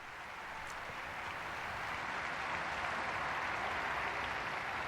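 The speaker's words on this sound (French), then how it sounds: "Nous pouvons applaudir la bienheureuse Mère Espérance," A large crowd of pilgrims at the Regina Caeli in Rome applauding Blessed Mother Speranza, a dense, steady wash of distant clapping that swells slightly and holds evenly throughout.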